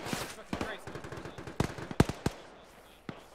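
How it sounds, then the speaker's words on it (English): Military video game combat: sharp bursts and scattered single shots of gunfire crack out at irregular intervals, some loud and close, others fainter, over a quiet background with a voice briefly present. "there's a lot of fucking gunfire"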